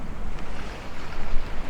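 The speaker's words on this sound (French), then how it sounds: "Il y a toujours 30-35 nœuds de vent" Strong wind of 30-35 knots gusts across a boat at anchor off La Graciosa, a steady broadband roar buffeting the microphone with rising and falling surges and water sloshing beneath.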